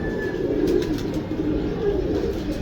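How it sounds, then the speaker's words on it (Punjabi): Pigeons kept by a pigeon fancier coo in low, soft murmurs close by, a continuous throaty rumble without speech. "ਇਹ ਹੀ ਉਹ ਕਬੂਤਰ ਜਨਾਬ"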